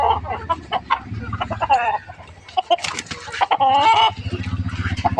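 Chickens cluck and squawk loudly at close range at feeding time, a flurry of overlapping calls rising and falling with a few sharper squawks, with a brief low voice in between.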